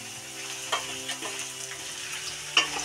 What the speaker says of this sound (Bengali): তো আলুটা ভাজা হোক, তারপরে আবার আসছি।